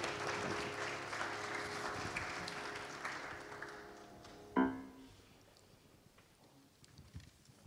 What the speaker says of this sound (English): Would you please clap your hands now and give God praise?